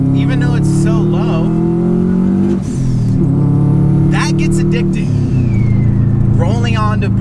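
Boosted Subaru WRX engine revving up through the gears from inside the cabin, loud rising drone with shifts, turbo whooshes and intermittent chatter, accompanied by talking.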